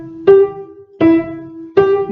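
Piano plays the opening bar of a beginner tune: three clear, evenly spaced single notes, each struck firmly and left to ring, heard alone and close.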